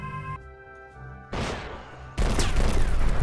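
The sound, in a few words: double missile attack in a video game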